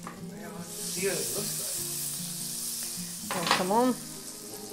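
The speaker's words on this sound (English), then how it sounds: "I'm gonna put it face down into my warm butter" Slice of Polish potato babka with bacon and onion frying in warm butter in a pan, a soft steady sizzle close by, with a brief spoken exclamation and a swell of hiss near the end.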